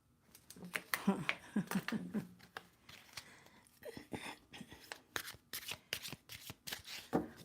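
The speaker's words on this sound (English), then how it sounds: "Okay, Trudy, I am going to get these cards shuffled and then move on to you, sweetheart." A deck of playing cards being shuffled at close range: repeated quick riffling bursts and soft flutters spread across several seconds, with no one speaking.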